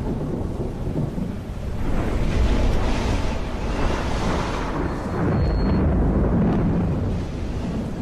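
Thunderstorm over the Irrawaddy river in Burma, with deep, rolling thunder rumbling continuously beneath steady rain and broadband wind noise, swelling loudest in the middle and never fading to quiet.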